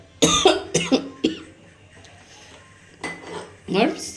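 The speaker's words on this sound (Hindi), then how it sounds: "तब तक हम इधर कढ़ाई चढ़ाते हैं" A wok being set on a home kitchen stove while rice cooks nearby: three sharp metallic clanks in quick succession, then a pause and two more bangs of metal cookware, close and loud.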